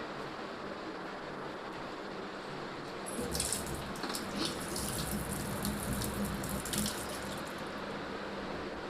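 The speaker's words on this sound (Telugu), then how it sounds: "ఫస్ట్ మనం వాటర్ మిలన్ని వాష్ చేద్దాం" A watermelon is washed under a running kitchen tap, a steady splashing hiss of water that starts a few seconds in and continues evenly after a quiet opening.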